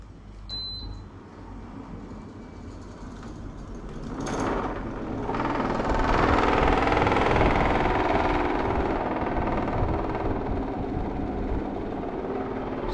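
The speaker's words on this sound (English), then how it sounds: "So this is actually the quietest that it's been running. It was super, super loud. It's basically someone's put an engine in it or something." A loud air-conditioning unit in a budget hotel room in Thailand runs with a constant heavy whir, swelling after a few seconds into a fuller, louder mechanical roar that holds steadily to the end.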